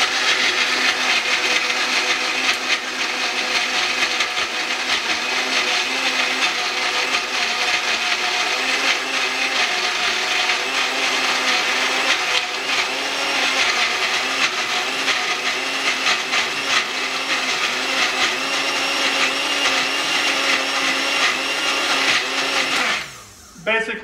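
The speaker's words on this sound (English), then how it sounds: "you want to kind of do it until you stop hearing the ice grinding up" A blender roars steadily for over twenty seconds, grinding and crushing ice in a loud, continuous whir before cutting off abruptly at the end.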